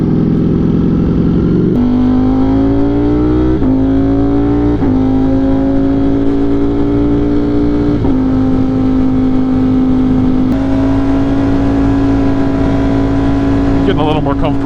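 A 208 hp Ducati motorcycle cruises in sport mode on a muggy morning commute, its engine droning steadily and stepping up through several gear changes, loud and close with rider talk under the sound.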